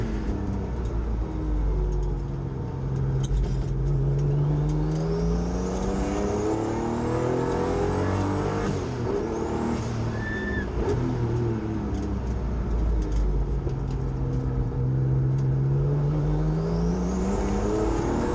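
A turbocharged race car on track at Hampton Downs accelerates hard, engine note climbing and dropping through gear changes with whistling turbo sounds above, loud and continuous.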